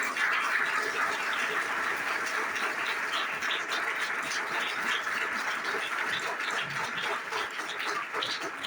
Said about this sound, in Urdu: یسوع مسیح کی صلیب کے لیے زوردار تالیاں بجائیں۔